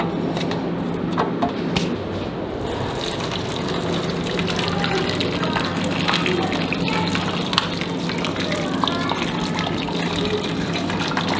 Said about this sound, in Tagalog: Lalagyan lang natin siya dito kasi lalagyan natin siya ng tubig.